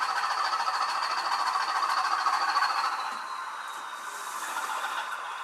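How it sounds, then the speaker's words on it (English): A Class 158 diesel train running over railway points, a steady close rumble with a high metallic whine that eases slightly partway through, with no speech. "You can hear the points then rechange again."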